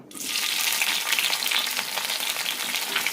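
Chopped tomato and four chopped green chillies sautéing in a teaspoon of oil for a mint leaf chutney, a steady close sizzle with faint stirring scrapes that starts sharply and holds throughout.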